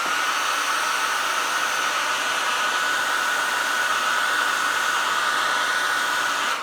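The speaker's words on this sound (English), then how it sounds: "take my hair dryer, and I'm going to dry this." A hair dryer blows continuously at close range to dry watercolor paint, a steady whirring hiss with a faint high whine, running without pause.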